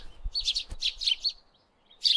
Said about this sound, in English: This is a sparrow. It is small and chirps sweetly.